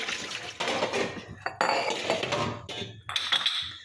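Dishes and pots left from a misal pav dinner clatter and clink as they are handled, with bright metallic chinks and a little water, in close, busy bursts.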